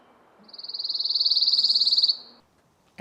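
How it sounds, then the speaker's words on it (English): Pine warbler song in pine trees: a single steady musical trill of rapid even notes lasting about two seconds, close and clear against a quiet background. "So many pine warblers."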